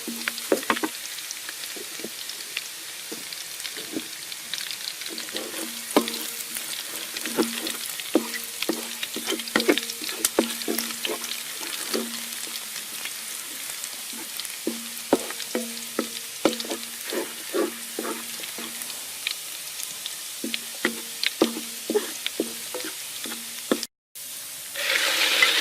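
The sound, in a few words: pork stir-frying in a hot pan with oil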